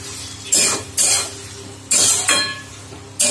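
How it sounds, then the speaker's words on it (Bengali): Vegetable curry being stirred in leftover fish oil in a pan: a utensil scrapes the pan in about five distinct strokes, each a sharp swish over a soft sizzle, close and clear. "সেই মাছের তেলটার সঙ্গে এই তরকারিটা আরেকবার আমি একটু ভালো করে একটু নেড়ে দিই"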